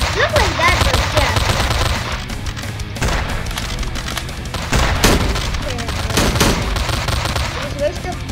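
Video game gunfire: dense, loud volleys of shots and booms sounding almost constantly over several seconds amid heavy in-game action, with people talking over the noise.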